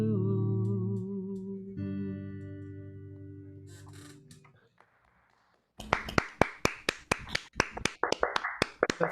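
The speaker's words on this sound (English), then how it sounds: "The thunderous Zoom applause thunders through my headphones." Scattered applause over a Zoom call after a live song, a few close, sharp individual claps after a fading musical note and brief silence.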